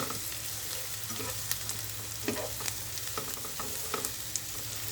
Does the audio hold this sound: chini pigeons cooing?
no